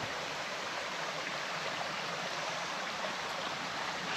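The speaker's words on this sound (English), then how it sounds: "Definitely a pretty cascading creek." A cascading creek flows through a forest, a steady broadband rush of running water filling the whole clip at a constant, moderately close level with no voices.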